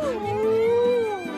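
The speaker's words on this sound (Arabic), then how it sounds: "هاد صوت ذئب" A wolf gives a single long, wavering howl, rising then slowly sliding down in pitch, clear and fairly close over a faint low background.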